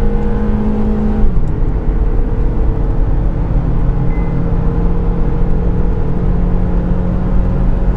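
Honda Civic accelerating on the road, a loud steady engine drone with a gear shift early on, then continuous whirring road and engine noise, no talking.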